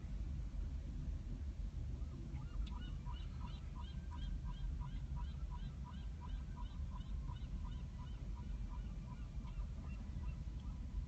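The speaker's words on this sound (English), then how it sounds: "I hear seagulls yelling at me." Repeated bird calls, a series of short honking cries at a steady pace, ring out over a loud, constant rumble of wind or surf.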